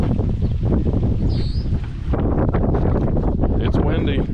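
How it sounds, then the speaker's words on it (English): Strong wind buffets the microphone during a fishing trip on water with lily pads, a loud continuous roar and rumble with gusty swells, while a voice is heard faintly underneath. "enjoy the windy noises"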